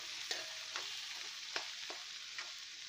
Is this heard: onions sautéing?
yes